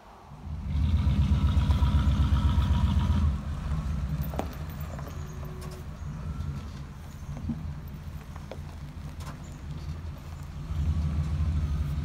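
A 1974 Corvette convertible project car's engine gives a loud, deep rumble at the start. It then settles to a quieter, steady idle and swells louder again at the end.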